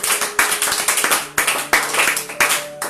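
A church congregation claps to acclaim the Lord, loud rhythmic hand claps in a steady beat from many people in a hall, with faint voices beneath.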